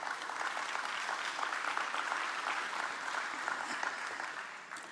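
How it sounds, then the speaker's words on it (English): A conference audience at a national transport conference applauds to welcome a speaker on stage, steady crowd clapping heard from within the hall at moderate level, fading slightly at the end. "join me through an applause to welcome on stage Donald Slamulela"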